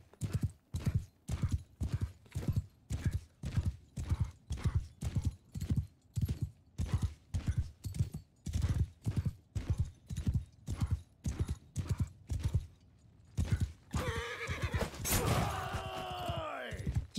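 Horse hooves galloping during a ride in the video game Mount & Blade II: Bannerlord, a fast, steady clip-clop rhythm close by that runs for a long stretch before giving way to a sharp crash and neighing.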